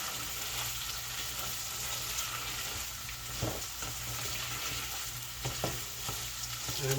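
Okra sizzles steadily in a hot pan for several seconds, with a few louder clanks of stirring breaking through the constant frying hiss.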